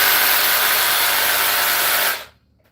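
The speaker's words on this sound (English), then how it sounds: "look at this Sawzall" A Flex cordless reciprocating saw runs with a steady, loud broadband buzz for about two seconds, then cuts off abruptly into near silence, heard close by while new vents are being run under a floor.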